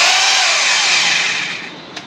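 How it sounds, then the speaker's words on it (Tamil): A 1600 W hammer drill runs at speed with a loud, steady high whine that slowly winds down toward the end, with a small click near the finish. "லைட்டாக ப்ரெஸ் பண்ணால் ஸ்லோ ஓடும் நல்லா ப்ரெஸ் பண்ணால் ஃபாஸ்ட்டாக"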